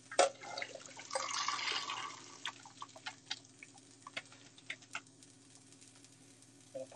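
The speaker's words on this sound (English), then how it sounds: "So I'm going to put them through a colander." Boiled potatoes drained in a colander bring a faint rush of pouring water, then scattered drips and soft patters over a low background hum.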